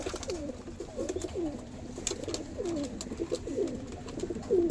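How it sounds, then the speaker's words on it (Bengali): Released domestic pigeons coo in a steady overlapping series of throaty rolling calls, several birds close by over a constant outdoor background. "তো পায়রাগুলো দেখতে থাকো।"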